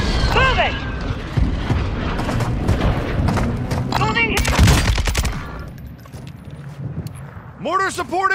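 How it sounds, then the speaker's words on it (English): Mortar strike explosions in Warzone 2 on Ashika Island, heavy booms and crackling blasts mixed with gunfire, loud and close, while game voice lines and radio chatter play over the battle. "Mortar support incoming! Copy that. Mortar strike inbound."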